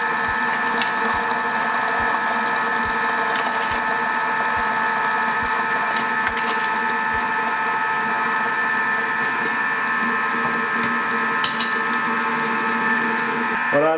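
Thermomix TM5 whipping egg whites for meringues, sugar being added: a continuous whirring mechanical motor hum with a regular faint ticking rattle, steady and close, running alone throughout.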